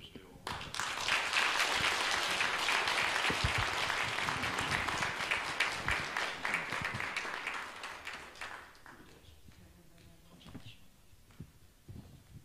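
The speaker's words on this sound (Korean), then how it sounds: "박수 해주세요" Church congregation applauding during a Sunday service award presentation, dense sustained clapping that swells loudly then thins out and fades near the end.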